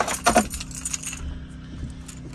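Keys jangle in a bright, close burst at the start inside a 2018 Adventurer LP 23RB camper, then settle into quieter metallic rattling.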